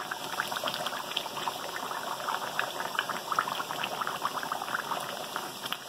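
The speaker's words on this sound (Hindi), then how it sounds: "मैं इसको ज़रा सा भूनूंगा मसाले को, ताकि जो हमने चीज़ें डाली हैं वो सारी तेल में रच जाए" Masala for chicken haleem frying in oil, a steady dense crackle and bubbling that runs evenly throughout, close and moderately loud, with no voices.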